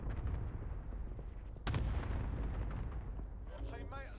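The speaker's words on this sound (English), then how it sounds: "They're called an airstrike" Airstrike explosions in the video game Call of Duty Warzone, a dense rumbling barrage with a sharp blast midway and continuous heavy booming, while a voice is heard faintly near the end.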